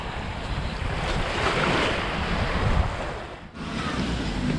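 Strong, constant wind blowing at the seaside in Vrasna, Greece, roaring steadily into the microphone with surf noise underneath, briefly dropping near the end before gusting back up.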